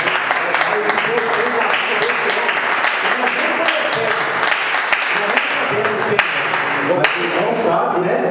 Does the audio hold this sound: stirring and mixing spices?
no